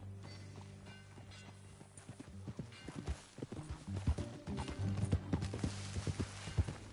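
Hoofbeats clop in a quickening rhythm as a horse rides along in Red Dead Redemption 2, over a low droning musical bed, growing louder toward the end.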